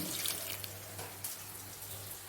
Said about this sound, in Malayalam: കുക്കറി വാരിയിട്ടതിന് ശേഷം നമുക്കൊരു ശകലം കൈ നനച്ചുള്ള വെള്ളം ഒഴിച്ചു കൊടുത്താൽ മതി